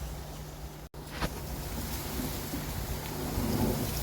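Steady rush of wind and rain from Storm Franklin in a garden, with a brief dropout early on, the gusty roar swelling slightly toward the end.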